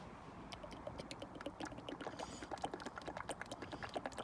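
Transmission fluid pours steadily into a Mercedes 724 seven-speed dual-clutch gearbox on a W246 B200 during a service, a faint, continuous trickle with small gurgling splashes that grow slightly stronger toward the end.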